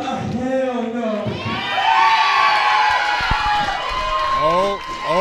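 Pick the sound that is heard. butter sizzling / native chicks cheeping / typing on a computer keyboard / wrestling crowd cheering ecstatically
wrestling crowd cheering ecstatically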